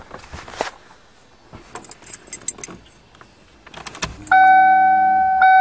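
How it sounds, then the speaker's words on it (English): A 1994 Ford Taurus wagon's fuel pump switches on with a sudden steady electric whine that holds loud and unbroken, after a few scattered key jingles and clicks. "let's test if the fuel pump turns on"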